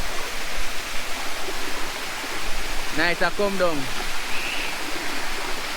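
A waterfall and river at Hidden Waterfalls in Jamaica's Blue Mountains rush in a steady, loud wash of water throughout, and someone briefly speaks over it.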